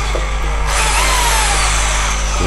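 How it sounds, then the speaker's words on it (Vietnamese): A Bosch three-function 220 V electric drill running in normal drilling mode, a loud steady motor whine held close for a couple of seconds, with a slight rise in pitch partway through. "chuyển qua đây khoan thường"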